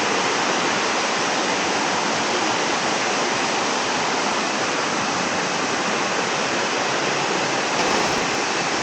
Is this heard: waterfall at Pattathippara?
yes